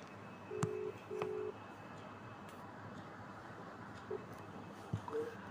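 A telephone busy tone follows a cut-off call: two short, low electronic beeps near the start, then a faint hiss of open line with a few small clicks.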